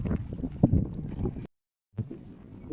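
Gusty wind buffets the microphone with rough, low rumbling, broken by a brief dropout before the blustering resumes.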